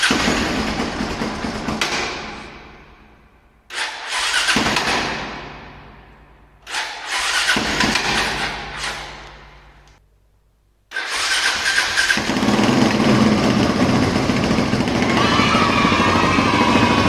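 A Suzuki DR 350 motorcycle engine being started in a parking lot after restoration. It turns over and catches in several loud attempts, each fading out, then settles into a steady, close idle.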